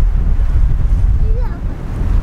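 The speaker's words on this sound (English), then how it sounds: "mate, it's really windy." Strong wind buffets the microphone outdoors, a loud, continuous low rumble that fills the whole moment, with a faint voice barely surfacing underneath.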